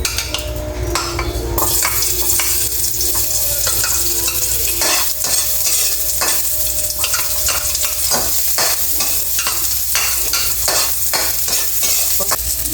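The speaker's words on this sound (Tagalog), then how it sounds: "Magdisayin muna natin yung bawang at sibuyas." Garlic and onion sauté in a hot pan, a loud steady sizzle with frequent scrapes and clinks of a spoon stirring against metal throughout, close up and with no talking.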